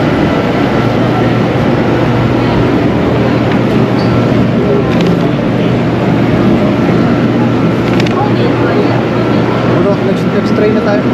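Bangkok MRT subway train ambience, a loud continuous rumble and roar filling the space, with people talking over it.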